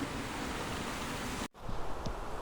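Broadband wind rushes steadily and loudly through a forest, cutting out abruptly for an instant before resuming with faint creaks and knocks.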